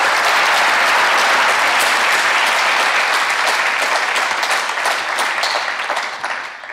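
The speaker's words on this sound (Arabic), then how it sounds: "زيدوا عاودوا صفقوا لي عليها" A studio audience gives sustained applause on a television talk show, a bright, continuous wash of many hands clapping that holds steady before gradually fading out at the end.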